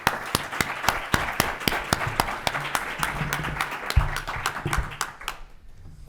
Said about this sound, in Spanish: pido que recibamos con un fuerte aplauso